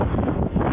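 Strong typhoon wind gusting through a street in Kaohsiung, heard as a loud, dense rush that buffets the microphone steadily for a brief moment.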